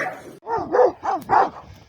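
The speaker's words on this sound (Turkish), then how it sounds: "bir şey geldi köpekler saldırıyor" Several dogs bark and yelp in quick, overlapping bursts close by, sharp and agitated, as they attack a large wolf at a village, with no talking.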